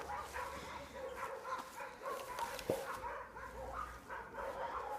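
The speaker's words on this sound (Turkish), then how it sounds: "Sokak köpeklerin sesi." Stray dogs bark intermittently at a distance amid outdoor background noise on a farm, with scattered yips and faint voices.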